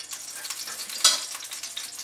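Clarified butter sizzles in a heated pan, a close, soft crackling hiss with one sharper spatter partway through. No voices are heard.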